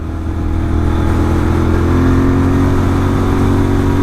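A loud Interceptor 650 motorcycle fitted with an S&S camshaft accelerates hard in second gear, its engine drone steady and close for several seconds with no pause.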